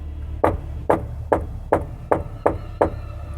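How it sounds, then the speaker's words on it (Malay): Seven evenly spaced, solid knocks on a house door at night, loud and close, each a sharp thud with a brief decay, with no voices. "Pintu rumahnya diketuk."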